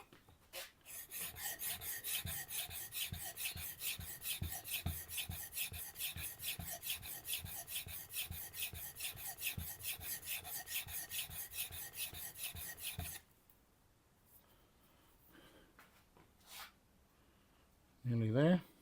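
A wood chisel is sharpened on a Tormek T8, with rhythmic rasping strokes running evenly for about thirteen seconds before it goes quiet, followed by a short burst of handling noise at the end.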